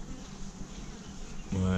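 Honeybees at a beehive make a steady, close droning buzz, with a louder, more tonal hum swelling in near the end.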